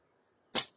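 A single sharp snap of a slingshot shot fired outdoors at a tree, one short crisp crack standing alone against near silence.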